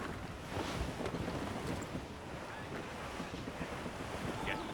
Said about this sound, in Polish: jakiś się mocny wiatr zebrał